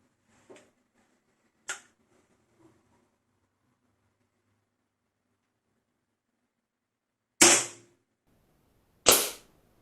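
Shots from a Weihrauch HW97K 5.5mm air rifle: two sharp, loud cracks a couple of seconds apart near the end, preceded by a few faint clicks and handling noises in otherwise quiet surroundings.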